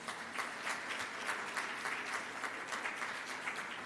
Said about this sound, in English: I think a recap like that deserves a round of applause.